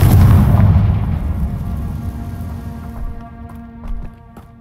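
A Confringo fire spell explodes in Hogwarts Legacy, opening with a loud, booming blast that fades into a rumbling decay with scattered crackles.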